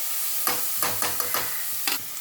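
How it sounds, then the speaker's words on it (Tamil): Onions with salt sauté in hot oil in a pan for a chicken gravy, a close sizzle broken by about five distinct scraping stirs of a spoon, with no one talking. "வெங்காயம் சீக்கிரமாக வதக்கிறதுக்காக கொஞ்சம் உப்பு போட்டோடனே நல்லா அதை வதக்கி விடணும்."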